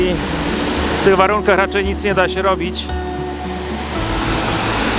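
A waterfall in a boreal forest in Norway in early spring rushes as a steady broadband roar, while someone talks briefly over it in the foreground.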